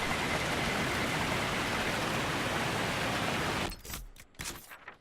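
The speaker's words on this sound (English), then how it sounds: "Oh, this is that waterfall we got that map for." A waterfall in the video game Dragon Age Inquisition roars as a steady, dense, loud rush of water that cuts off abruptly near the end, leaving a few faint footsteps and clicks.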